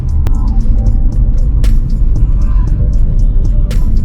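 A Renault Duster taking a corner: a loud, steady low engine and road rumble heard from inside the car, with a few brief ticks and clicks over the top and no talking.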